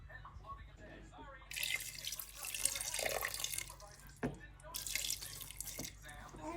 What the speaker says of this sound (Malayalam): കുറച്ച് വെള്ളം കൂടെ ഒഴിക്കുന്നുണ്ട്.